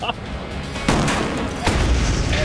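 Explosions going off in water in Minecraft: two loud, muffled blasts about a second apart, each a sudden broadband burst that settles into a rumbling wash.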